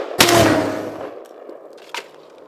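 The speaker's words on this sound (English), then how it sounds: "All right, firing in 3, 2, 1." A Zastava ZPAPM70 rifle fires a single loud 7.62x39 round outdoors in the snow. The sharp crack decays over about a second, and a faint distant ping from a hit follows.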